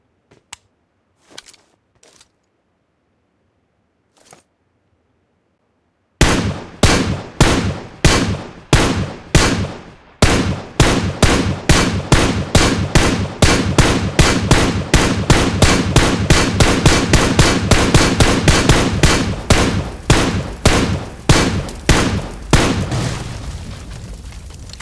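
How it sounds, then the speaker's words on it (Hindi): An M416 rifle fires at a buggy in PUBG Mobile: a few scattered pops, then a long, loud run of rapid, steady gunfire, each report sharp and booming, continuing without pause until it tapers at the end. "अब देखते हैं M4 को कितनी एमोज लगती हैं बग्गी को ब्लास्ट करने पे"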